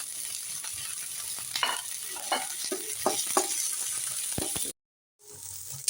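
Coriander leaves and green chillies fry in a hot pan with a steady, close sizzle and scattered stirring scrapes, broken by a brief silent gap.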